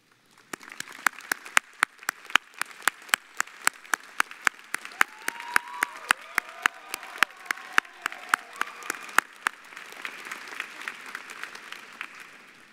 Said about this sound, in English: I would like you to stand for a round of applause